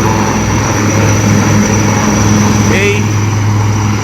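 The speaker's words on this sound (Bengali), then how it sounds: "দেখো, এই হেলিকপ্টার ইন্ডিয়ান আর্মি ল্যান্ড করছে।" Indian Army helicopter landing on an open ground, a steady droning rotor and engine roar that holds constant throughout, with faint speech and a brief whistle-like sound mixed in.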